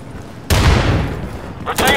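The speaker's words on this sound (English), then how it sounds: "I'm throwing a frag grenade!" A frag grenade blast in a video game, a sudden loud explosion that booms and decays over about a second, followed by another sharp burst of gunfire-like noise.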